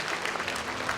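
A short burst of steady audience clapping at an awards ceremony for a national economics olympiad, where students, parents and guests are gathered. The applause is moderately distant and even throughout.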